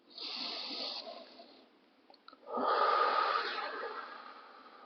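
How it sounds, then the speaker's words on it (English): Two nasal inhalations during a relaxation breathing exercise, close and clear: a long breath in through the nose, a short pause with faint clicks, then a stronger, louder intake that tapers off. "breathing in through the nose"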